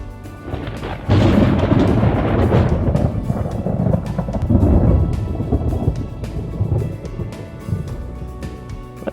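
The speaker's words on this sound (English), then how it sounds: "thunder," Muvizu animation software thunder sound effect: a loud rolling rumble of thunder with steady rain hiss, building after a quiet start and slowly fading over several seconds.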